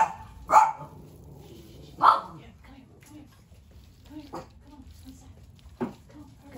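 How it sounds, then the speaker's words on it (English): Small dogs bark in short, sharp yips indoors, two louder barks near the start followed by quieter scattered yips, with some background movement. "It's little adorable dogs here watching me."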